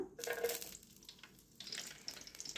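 Green chillies drop into hot peanut oil and crackle in bursts of sizzling and spitting, close and fairly quiet, easing briefly before the frying flares up again.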